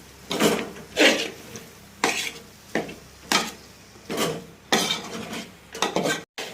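A spoon stirs cauliflower in masala paste in a pan for a vegetarian curry, making seven or eight rhythmic scraping strokes about one per second, close and clear with a soft sizzle underneath.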